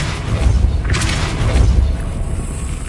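Depulso force spell cast in Hogwarts Legacy, a loud booming magical blast with a deep low rumble and a brief bright whoosh, set against steady game background sound.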